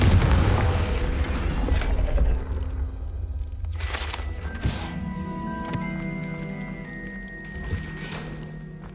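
A Confringo explosion spell goes off in the Hogwarts Legacy video game, a deep booming blast up front followed by rumbling debris and layered magical shimmering tones that linger and fade.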